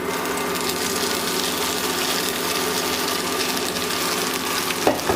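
Boiled vermicelli (semai) being stirred into a spice mix in a pan, steady sizzling with scraping and clinking of a spatula, ending in a sharper scrape, no talk.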